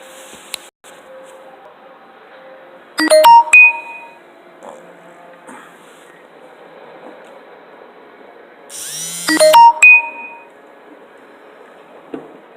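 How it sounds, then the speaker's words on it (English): Stream notification chimes sound twice, each a short cluster of bright, clanging tones over a quiet background, with a few faint clicks scattered between them. "Notifications are popping up."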